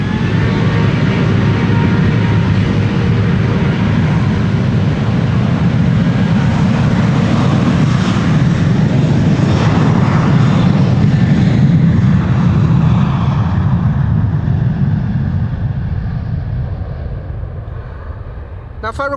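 An Atlas Air Boeing 747 freighter, a four-engined jet, roars steadily and loudly at Amsterdam Schiphol Airport, a broad sustained rumble that slowly fades toward the end.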